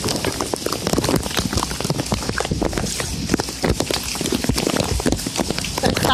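Heavy rain from Tropical Storm Isaac pours and splatters on a sidewalk and trees in gusty wind, a loud dense patter of irregular hits throughout with no talk.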